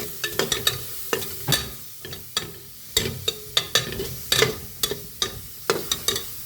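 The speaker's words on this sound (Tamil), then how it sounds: "சும்மாவே அப்படியே எண்ணெய் இல்லாமல் அப்படியே வதக்கணும்" Ginger and garlic being sautéed in a dry pan without oil for a chickpea curry, with a spoon scraping and tapping against the pan in quick, irregular strokes over a soft sizzle, close and clear.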